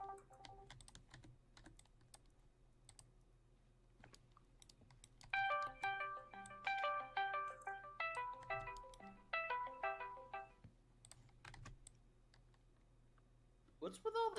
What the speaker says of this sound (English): What's with all the Discord sounds?